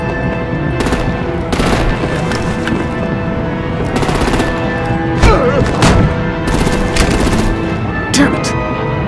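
Artillery-style gunfire in a Batman Telltale Series action scene: repeated loud bursts and booming shots in irregular clusters over a dense, continuous background of combat noise.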